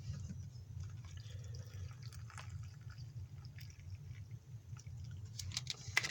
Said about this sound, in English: So I put some water in the soup.